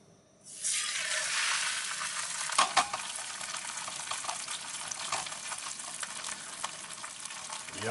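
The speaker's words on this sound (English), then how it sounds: "I'm gonna take the pan off the heat and put the fish on." Fish laid into a hot oiled pan at a campsite sets off a sudden loud sizzle that holds steady and bright, with a couple of faint clinks early on and no voices over it.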